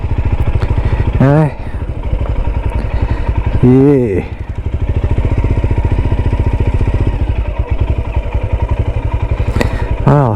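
Motorcycles at a Himalayan ride to the Pointe du Raz, engines loud and close with a steady thumping, pulsing rumble throughout, while a voice speaks briefly over it.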